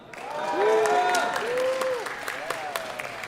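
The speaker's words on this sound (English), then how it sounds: "On 3, let's give them a big cheer." At a university robotics club's sumobot finals, the crowd cheers for a competing team with loud whoops and yells rising and falling, plus scattered clapping, close and energetic before tapering off.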